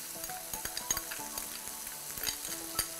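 Garlic frying in a pan for a Mexican-style dish, a continuous sizzle with light stirring scrapes and small utensil clicks, close and alone.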